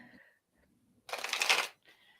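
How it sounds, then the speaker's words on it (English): Tarot cards are shuffled in a single brisk riffle lasting about half a second, close and crisp, between quiet moments and faint speech before and after. "if ever you are shuffling cards and a card comes flying out, don't put it back"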